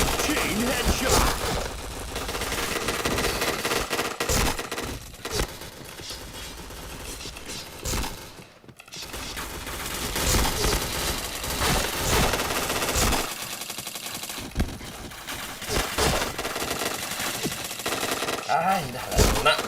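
Rapid gunfire crackles almost without a break in the shooter game Point Blank. Dense bursts and single shots overlap, with a brief lull midway, and game announcer voices call out over the shooting.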